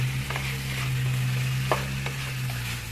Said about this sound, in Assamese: মই মাংসখিনি ভাজি